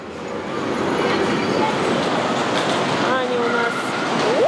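A small amusement park ride train rolls along in a steady broad rumble of wheels and track close by. A voice and squeaky tones come through near the end.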